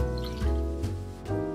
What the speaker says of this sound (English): Mix well and pour the sauce into the pot.